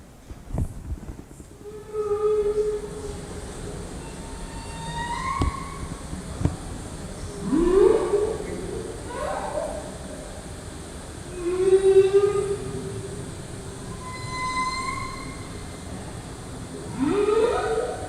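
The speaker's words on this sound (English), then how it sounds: "a humpback whale might sing its song for 24 hours straight" Humpback whale song: a series of moaning and rising whoops, repeated every few seconds with long pauses between, some higher pitched cries and deep low groans, fairly close and clear with no voices.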